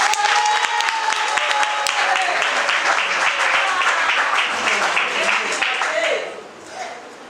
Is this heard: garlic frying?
no